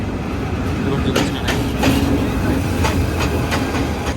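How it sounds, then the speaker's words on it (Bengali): A train from Sylhet rolls past a stationary train in Bangladesh, its steady rumble and clickety-clack of wheels running continuously and fairly loud, with repeated sharp clanks over the track joints. "যে ট্রেনটা আসবে সিলেট থেকে সেটাকে সাইড দেওয়ার জন্য পনেরো মিনিট হবে দাঁড়িয়ে আছে"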